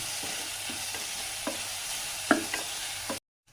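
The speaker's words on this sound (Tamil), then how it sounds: "ஆனியனை கூட சேர்த்து இதை நல்லா நல்லா சுருள வதக்கணும்." Onions frying in a pan for mutton pepper sukka give a soft continuous sizzle, with a few sharper scrapes and taps of stirring, close, ending in abrupt silence.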